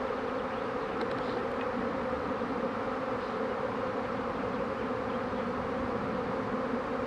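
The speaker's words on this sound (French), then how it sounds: "Voilà, l'essaim est en train de se reformer." A honeybee swarm re-forming around a beekeeper gives a dense, continuous droning buzz, close and even in loudness throughout, with no voices.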